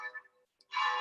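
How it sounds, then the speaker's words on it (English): Church bells ringing for six o'clock, a broad clanging burst near the end of the moment after a brief lull, preceded by faint ringing tones, heard from a distance in the background. "there goes the 6 o'clock bells"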